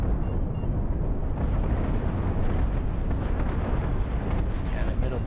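A shield blows up in the space-combat video game Cosmoteer, heard as a dense, continuous explosive rumble and crackle lasting several seconds, loud and full, with a voice talking over it.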